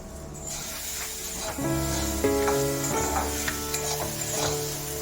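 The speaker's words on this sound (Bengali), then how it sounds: "আজকে আমার মা রান্না করছে।" Oil sizzles and crackles steadily in a pan as posto is fried with lentil dumplings, eggplant and potato in a home kitchen, near and moderately loud, joined by low mechanical tones and a few clanks.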